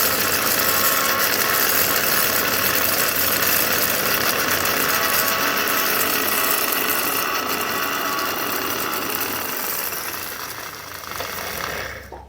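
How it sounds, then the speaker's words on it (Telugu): A kitchen mixer grinder runs continuously, grinding spices into a dry powder for a Nellore-style broad bean pickle; a loud, steady whirring rattle fills the whole clip, easing slightly toward the end before stopping, with no talking. "ఈ మిక్సీ బాగా పొడి అవ్వాలి."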